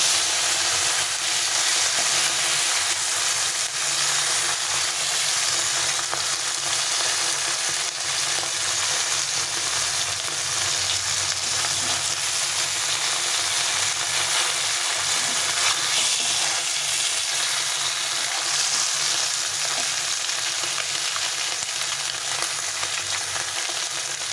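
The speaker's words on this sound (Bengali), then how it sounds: "সব মাছগুলোকে উল্টে পাল্টে ভেজে নিতে হবে।" Steady, close sizzling of several fish frying in oil in a pan for a long stretch, with occasional light scrapes as the pieces are flipped. The crackle stays dense and even throughout, and no one speaks.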